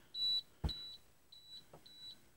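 A series of short, high electronic beeps from a ZTE Axon phone camera in sports mode with object tracking, about four in a row, faint and close, with a soft clunk between them.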